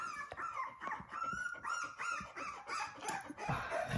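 Labrador puppies whimper and squeal in a steady run of high, wavering cries close by, with a faint clucking-like chatter mixed in and no talk.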